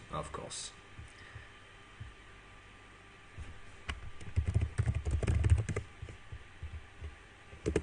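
A computer keyboard clatters in quick irregular bursts of close clicks, louder in the middle, with faint background hum and some speech around it.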